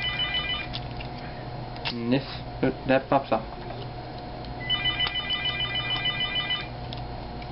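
A telephone rings in the background while someone talks over a Transformers ice cream truck toy. Quiet trilling bursts come near the start and again as a longer run later, staying faint under his voice and some plastic clicks.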